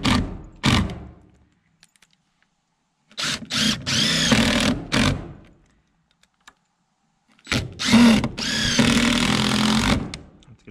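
A power drill drives 3-inch screws through wooden trim and siding into framing, in three separate bursts of whirring and grinding with quiet gaps between, loud and close, each run lasting a second or two.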